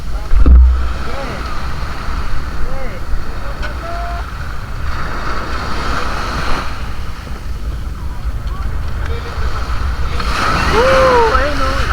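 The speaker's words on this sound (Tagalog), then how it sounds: "Kasi malakas yung alon." Strong sea waves at Pundaquit, Zambales surge and wash continuously around a small boat under steady wind noise, with voices speaking and whooping over the surf.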